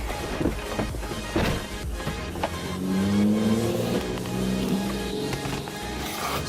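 A Nissan 240SX engine cranks, catches and revs, its rising and falling engine tone climbing into a sustained hum after a few seconds of clatter, fairly close and without talk.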